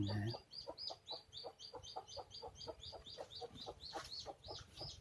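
Native Thai chickens, kept alongside black Dukdam hens, cluck in a steady rapid series of short repeated calls close by, with a brief louder sound at the very start.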